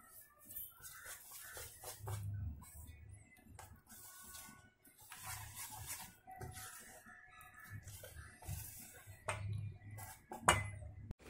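Chocolate cake batter is stirred in a bowl with a utensil, giving faint, irregular scraping and clinking strokes that come in short bursts with quiet gaps, close but low in level.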